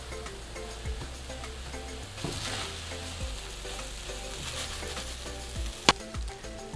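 Tofu filling and rice vermicelli sizzle steadily in a hot pan while being stirred and mixed, with a few soft utensil scrapes and one sharp clink near the end.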